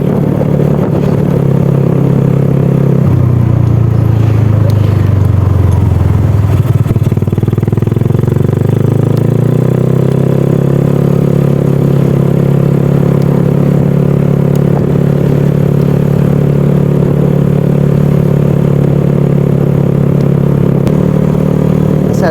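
A Yamaha Mio scooter, freshly fitted with new valves, rides over a rough, bumpy cast-concrete road; its engine drones steadily and close, with a brief dip in pitch early on and continuous rattling road noise underneath.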